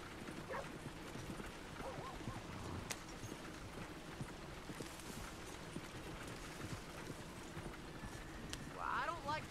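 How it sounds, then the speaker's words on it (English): Horse hooves clip-clop steadily along a road in the video game Red Dead Redemption 2, a soft, continuous rhythmic trot under faint background game sound. "Look where you want to go and the horse will follow."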